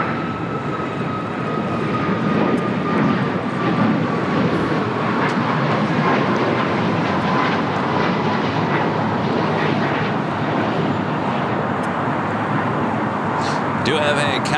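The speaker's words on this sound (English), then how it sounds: "Do have a Cathay Pacific Cargo. This is for the updated Cathay Cargo livery. Coming in from Dallas, Fort Worth, Texas, 747-400ER." A Cathay Pacific Cargo Boeing 747-400ER arriving at LAX, a steady, loud jet roar with a slowly falling whine that holds throughout, with a brief higher tone near the end.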